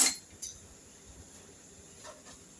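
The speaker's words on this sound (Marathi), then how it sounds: "हे बघा क्लीन निघते आपलं चाकू" Light metallic clinks from a knife sliding into freshly steamed colocasia leaf alu vadi, a few faint taps scattered over a quiet kitchen background with no talking.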